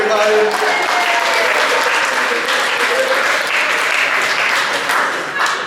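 Loud, steady applause from an audience fills the whole stretch, with some whoops and cheering mixed in. It eases slightly toward the end.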